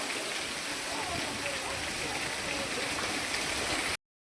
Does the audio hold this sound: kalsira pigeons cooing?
no